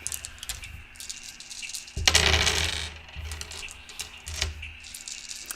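Color dice tossed for a reroll make one loud close clattering tumble midway, with lighter ticks and taps before and after.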